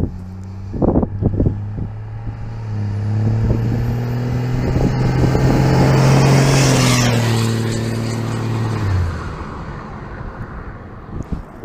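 A Cummins diesel truck roars past close by, its engine note building to a loud peak, then falling away as it drives off.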